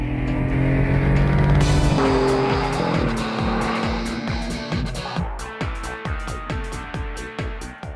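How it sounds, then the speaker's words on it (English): A small BMW three-cylinder car engine revs hard and runs loud, with rising and falling pitch, a brief tire squeal, and rapid rhythmic pulses as it accelerates. "The new engines also sound strong and dynamic."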